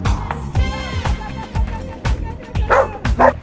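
Dogs at an agility training session bark in a run of short, loud yips and woofs spread over a few seconds, with a voice speaking through the barking.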